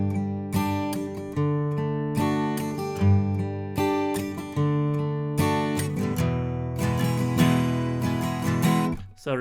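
An outro guitar part, sustained repeating chords with effects-laden tone, played loud and continuous for about nine seconds with no talking.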